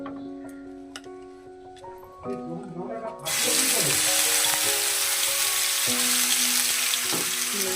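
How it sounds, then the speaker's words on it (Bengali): Ginger, onion and garlic paste hits hot oil in a kadai, bursting into a loud, sustained hissing sizzle partway through after a quieter opening with steady tonal background sounds that continue underneath. "তেলটা ভালো করে গরম করে তার মশলাটা পুরোটা দিয়ে"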